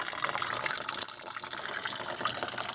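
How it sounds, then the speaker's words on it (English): Water trickles and splashes steadily through the drain of a solar-powered wishing well birdbath fountain, recirculating to its reservoir, a soft continuous gush heard close and alone. "there's a drain here that drains the water back into the reservoir, so it's a circuit and keeps circulating"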